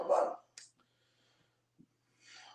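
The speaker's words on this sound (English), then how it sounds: "was your dog barking?" A pet dog gives a single short, close bark, followed by faint snorts and small sounds in a quiet room.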